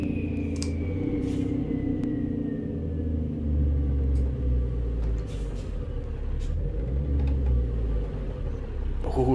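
A Mack Cruiseliner truck with a 12-speed Maxitorque transmission in American Truck Simulator gives a deep, steady diesel rumble that stays loud and close throughout, with faint higher-pitched whines drifting over the low drone.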